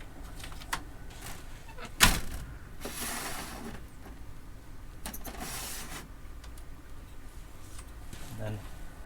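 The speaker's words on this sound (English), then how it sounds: "Screen door detaches." The screen door of a 2019 Rockwood Mini Lite 1905G RV camper detaching, with a sharp clack followed by rattling and scraping of the frame while a person talks nearby.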